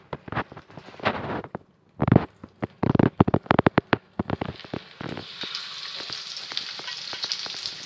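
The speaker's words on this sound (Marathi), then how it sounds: "पॅनमध्ये तेल घालायचं आणि याच्यामध्ये घोळून हे फ्राय करायला ठेवायचं" Surmai fish pieces coated and frying in oil in a pan over high flame: about five seconds of clattering as pieces are handled and laid in, then a steady, close crackling sizzle.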